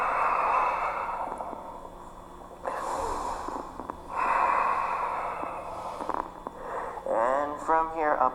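Breathing during a power yoga flow, close and clearly audible: airy inhales and exhales repeat in a steady rhythm, and a few voiced sounds come at the end.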